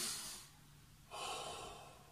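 Two slow, deep breaths close to the microphone during an active rest in a children's and family workout: a long airy exhale fading out, then a strong inhale, no talking.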